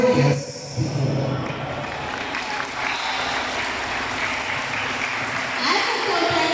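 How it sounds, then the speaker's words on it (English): An audience at a graduation practice applauds steadily for a guest speaker, a sustained wash of clapping from a mid-sized crowd, with a voice audible briefly at the start and end. "let us all give a resounding applause for our guest speaker"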